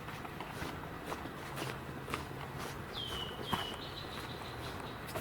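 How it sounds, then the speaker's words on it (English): Red-winged blackbird calling outdoors, a few thin whistled notes heard faintly at a distance over soft footsteps and rustling. "I believe that was red-winged blackbird we just heard."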